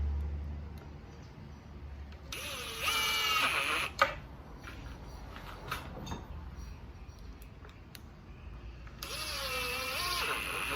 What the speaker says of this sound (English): These are 1 1/4 inch screws. And we're going to go right down into these holes here, and I'll do the first 3.